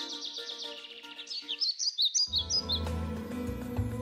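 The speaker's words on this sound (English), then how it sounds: "The world got noisy when God made the birds." Birds chirp and call in bright, quick tweets and trills, moderately close, with a busier burst of calls in the middle before softer song continues over a low background hum.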